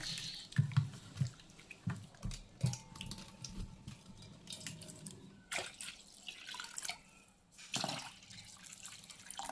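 Water is poured into squeezed tamarind pulp in a kitchen bowl, producing uneven splashing and dripping bursts at close range that pause and resume.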